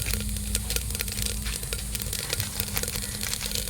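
Mustard and cumin seeds fry in gingelly (sesame) oil as a tempering for tomato-garlic rasam, giving a steady, close, crackling sizzle with a low hum underneath and no talking.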